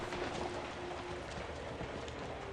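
Steady rain falling in the horror video game Outlast, a soft continuous hiss of drops spread evenly across the whole stretch with a faint tonal hum underneath and no voices.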